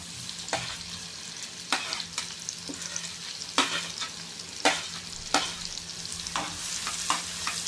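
Onions sizzle steadily in hot butter and oil in a kadhai while a spatula scrapes the pan in repeated strokes, close and fairly loud.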